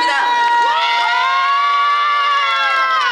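A crowd at a concert at a cancer hospital cheers loudly and steadily, high-pitched shouts and screams blending into one sustained roar close by.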